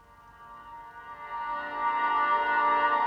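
A cinematic sweetener pad, radically filtered, with a touch of distortion and tremolo, sustains alone as a dense, shimmering tone that slowly swells in loudness over a few seconds.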